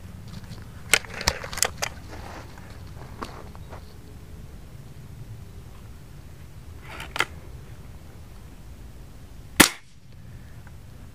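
A Gamo 1,000 fps air rifle fires .177 Gamo Raptor Premium Gold pellets, giving a few sharp, snappy cracks at irregular intervals, with one louder, closer shot near the end, against a quiet background.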